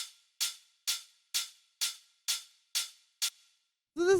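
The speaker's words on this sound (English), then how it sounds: "the next sound that we have here is the main hi-hat," Synthesized techno hi-hat sounding on the upbeats: eight crisp, bright, evenly spaced ticks with short decays, quiet and dry, followed by a brief tonal synth swell at the end.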